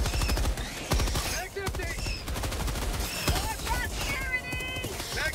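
Rapid machine gun bursts in the co-op shooter Helldivers 2, loud repeated volleys and explosions mixed with game music and overlapping voices talking.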